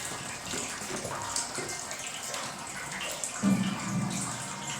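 Water runs steadily from a tap during carpet washing, a continuous close splashing gush with small shifts in flow, no talk.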